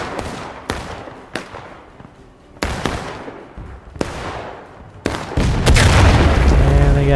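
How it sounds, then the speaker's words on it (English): Artillery shells burst in a Civil War battle in the War of Rights game, a string of sharp booming explosions at irregular intervals that builds into a dense, roaring barrage near the end. "And they got hit by artillery."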